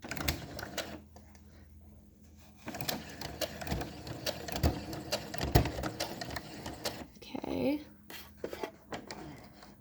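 A sewing machine back stitching fabric for a face mask, bursts of rapid needle clatter starting and stopping, close by, with a person talking in between.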